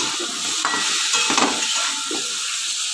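Pumpkin and potato with turmeric and salt stirred in a hot pan, a steady frying sizzle with soft scraping strokes of the spoon, close and alone throughout.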